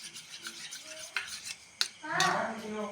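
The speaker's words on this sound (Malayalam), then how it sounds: "നന്നായിട്ട് നമുക്കൊന്ന് ഇളക്കി കൊടുക്കാം" A spoon stirs food in a home-kitchen pan, giving soft repeated scraping and rubbing strokes with a couple of sharp clinks against the metal, then a brief sizzle-like swell, all fairly close and quiet with no talking.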